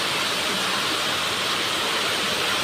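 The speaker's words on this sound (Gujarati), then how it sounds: "ફળિયામાં લાગત પાણી ભરાઈ ગયું, એટલો વરસાદ પડે છે" Heavy monsoon rain pours down outside during a night storm, a dense, loud, unbroken roar of water filling the space evenly throughout.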